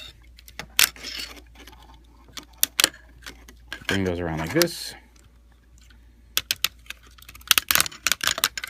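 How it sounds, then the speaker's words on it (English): A transforming robot toy, ToyWorld TW-H04G Grant, is posed and its joints turned, giving sharp, close clicks from heavy ratchet joints in scattered bursts, with someone talking briefly partway through. "You see a lot of like heavy clicking ratchet joints, which is nice."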